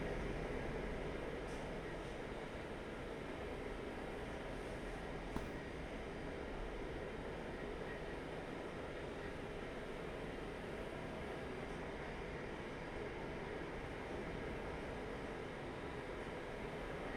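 A passenger train on the London to Calais route in the railway simulator Train Life gives a steady, low rumbling drone with a constant broadband roar, even and unbroken throughout, with no talk over it.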